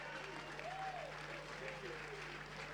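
A crowd at a South Australian football match between Glenelg and Port applauds and cheers in a broad, steady roar. A commentator's voice carries faintly underneath, and the crowd noise stays at an even level throughout.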